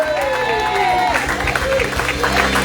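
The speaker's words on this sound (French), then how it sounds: "Et nous acclamons le Seigneur bien fort et bien haut." A church congregation at a teaching meeting applauds and cheers loudly and steadily, with a continuous crowd roar, clapping and voices mixed under a speaker's amplified talk.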